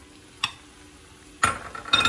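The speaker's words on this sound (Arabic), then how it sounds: "قلبي تقليبه يتحمر مع الخضار" Calamari being stirred as it fries with vegetables in a pan for a tagine: soft scraping and a short clink, then two bursts of sizzling and stirring, fairly close and without talk.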